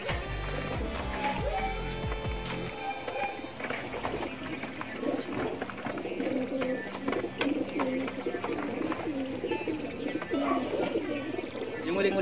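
Pigeons at a loft in Concepcion, Tarlac coo repeatedly in soft, throaty bursts over fluttering and rustling, close by and continuous.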